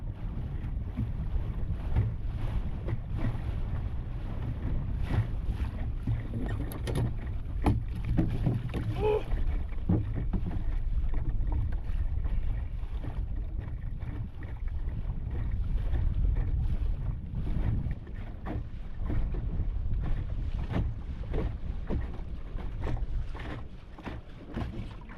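Fifty-knot wind batters a sailboat riding at anchor, a loud, constant roar with gusts that buffet the microphone and water washing against the hull beneath.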